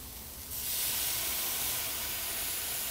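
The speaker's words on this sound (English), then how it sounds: "we're gonna deglaze it with the red wine" Red wine hits a hot pan of sautéing wild mushrooms, and a sudden loud rush of hissing steam bursts up and then holds as a steady, close roar.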